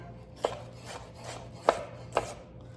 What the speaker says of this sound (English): we're gonna get our onion nice and sliced up